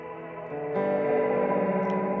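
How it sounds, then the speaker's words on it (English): A sustained electric guitar chord through a reverb pedal with trails, drenched in reverb, the tone swelling and ringing out with long, washy trails. "So it's a reverb with trails,"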